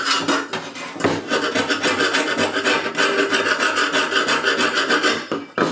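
Rapid, rhythmic scraping and rasping of a sanding disc removing loose paint from a John Deere tractor, close and continuous with a brief pause near the start.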